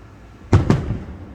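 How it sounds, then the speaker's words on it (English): Two sharp fireworks bursts go off in quick succession, loud and fairly close, each followed by a brief crackling decay over a low background. "Man, where do they get these really pretty fireworks?"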